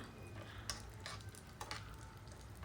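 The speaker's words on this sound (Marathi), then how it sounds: "आता या तुपामध्ये आपण हे काजू बदाम भाजून घेऊया" Cashews and almonds roast in ghee in a pan, a faint steady sizzle broken by a few quick stirring scrapes of a spoon.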